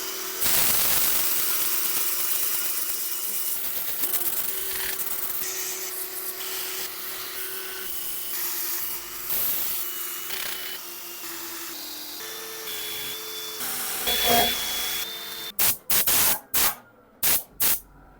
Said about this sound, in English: all we've got to do now is sand